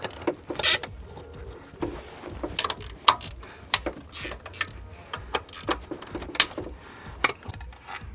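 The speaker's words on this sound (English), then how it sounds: "let's loosen these intercooler nuts up" A ratchet loosening intercooler nuts on an Isuzu D-Max, rapid clicking bursts and metallic ticks at close range, coming in irregular spurts with short pauses between.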